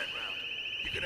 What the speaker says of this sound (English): I thought Frank sorted the alarms